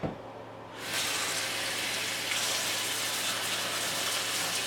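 Dyed acrylic yarn rinsed under a running tap, with a brief quieter moment before water gushes in and keeps flowing steadily and loudly to the end.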